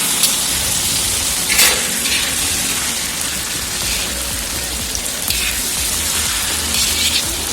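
Duck meat sizzles and fries steadily in a pan while being stirred, a constant loud hiss with occasional scraping and crackling bursts over several seconds.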